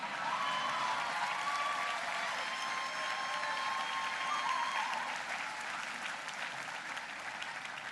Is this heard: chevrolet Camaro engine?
no